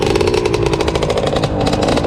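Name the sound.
KTM 350 EXC-F supermoto motorcycle engine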